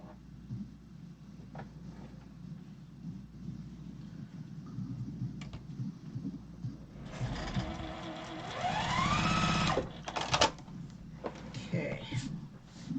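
A sewing machine stitching quilt blocks runs for a couple of seconds in a steady whirring burst, with a rising motor whine. Soft room noise and a few clicks surround it.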